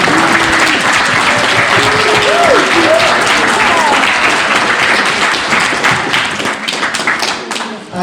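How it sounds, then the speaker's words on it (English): Wedding guests applaud for a birthday, a loud, dense round of clapping lasting about eight seconds, with a few voices and a brief tonal whoop mixed in, thinning slightly near the end. "I'm going to ask you to give her a round of applause"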